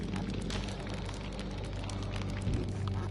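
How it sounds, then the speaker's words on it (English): Rain shower in the video game Burly Men at Sea, a steady soft hiss of falling rain with faint spattering over a low rumbling bed, quiet and continuous with a brief thump near the end. "here comes the rain."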